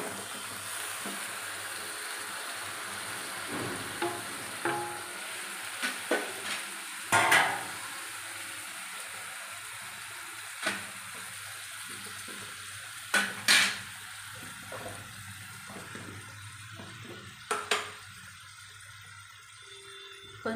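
Vegetables including eggplant pieces, broad beans and tomatoes fry with a soft continuous sizzle and hiss in a pan, punctuated by irregular clanks and scrapes of a stirring utensil.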